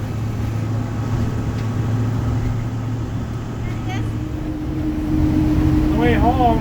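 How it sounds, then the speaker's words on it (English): Interior drone of a school bus engine while driving, a steady low hum and road rumble throughout that grows louder near the end, with faint voices underneath. "Forgot how noisy school buses are."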